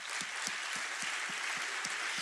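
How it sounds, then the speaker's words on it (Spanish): A church congregation applauds, giving a broad, steady wash of clapping that carries faint, evenly spaced low thumps in a quick rhythm underneath. "vos, varón, también mereces un aplauso"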